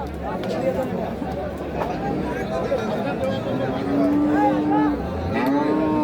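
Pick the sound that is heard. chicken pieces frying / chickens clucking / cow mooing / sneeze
cow mooing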